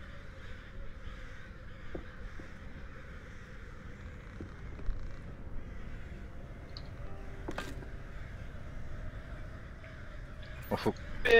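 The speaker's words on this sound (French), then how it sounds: "Ah, mais c'est quelques gentils corbeaux!" Crows caw in a puzzle adventure game, faint, scattered calls over a quiet ambient hum, with a couple of sharper bursts near the end.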